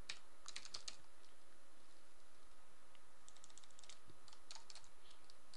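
Quick, faint bursts of keystrokes are typed on a computer keyboard, coming in irregular clusters over a low background hum.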